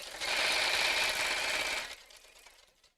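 Sewing machine running steadily as it stitches through a layer of pocket fabric on an evening bag, a close, continuous whirring burst of about two seconds that then stops, leaving a faint tail.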